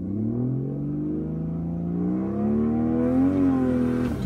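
A turbocharged Mercedes W203 with an M104 engine accelerates hard in second gear, the engine note rising steadily in pitch with a whirring turbo, loud and close, with no speech.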